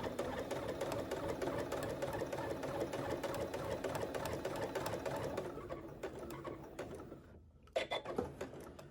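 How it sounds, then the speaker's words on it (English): A sewing machine stitches a seam along a marked line on a padded fabric picture frame, a fast steady mechanical chatter close up that slows and stops near the end, followed by a few handling clicks. "I'm just going to stitch along that line all the way around"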